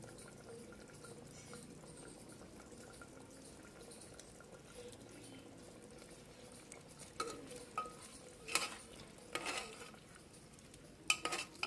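Mutton curry with meat masala is stirred in a pot on the stove, a quiet wet churning that turns into louder clacks and scrapes of a spoon against the pot toward the end, close and without talk.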